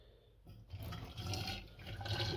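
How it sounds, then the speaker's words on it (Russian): Hot water, around ninety degrees, is poured into a thermos at a spring fishing outing; a gushing, filling splash starts abruptly and runs continuously, close and fairly loud. "сейчас я буду сюда заливать воду"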